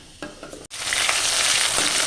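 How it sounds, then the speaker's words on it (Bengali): Chopped onion and green chillies tossed into hot oil already tempered with panch phoron: a few light stirs, then a sudden loud sizzle that holds steady and close to the end, with no talk. "পেঁয়াজ কাঁচা লঙ্কা ঠিক করে ঠিক ভেজে নেব"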